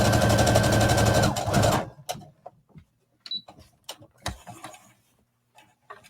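Sewing machine stitching jacket fabric in a rapid, steady mechanical whir for about two seconds, then it stops. Scattered small handling clicks and rustles follow at close range.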